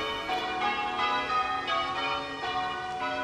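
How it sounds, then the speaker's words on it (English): Church bells ringing in the tower of St Andrew's Church, six bells installed in 1886: overlapping bright metallic tolls strike in quick succession, ringing out with long shimmering sustain at moderate loudness. "There are six bells in the tower."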